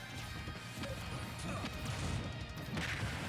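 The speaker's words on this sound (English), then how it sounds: "There's so many explosions on the part of Snake." Snake's grenades burst in a fighting video game: a dense run of loud crashing blasts and smacks, one after another, over a noisy, busy game background.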